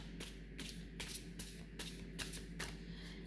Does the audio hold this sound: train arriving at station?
no